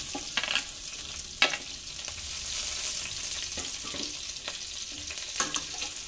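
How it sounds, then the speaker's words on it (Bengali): Onions with slit green chillies frying in oil in a pan, a dense continuous sizzle and crackle with occasional spatula scrapes and stirring taps, close and fairly loud with no voices. "পেঁয়াজটা আমার লাল লাল করে ভাজা হয়ে গেছে।"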